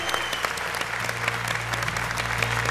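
A studio audience at a televised talent show applauds after a performance, a dense, loud, steady burst of clapping that fills the whole moment.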